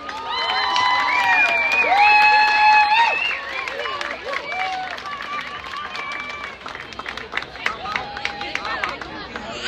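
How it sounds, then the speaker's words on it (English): A crowd cheers and claps loudly at first, the noise then settling into lighter scattered applause mixed with chatter and voices. "a round of applause"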